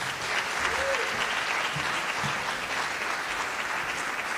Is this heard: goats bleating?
no